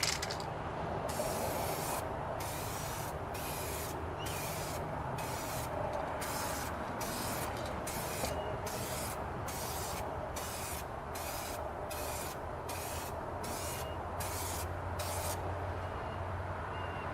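Spray can laying a first coat on a faded carbon fiber Seibon GTR hood for an E39 540i, a series of regular hissing bursts with short gaps between them, close and steady.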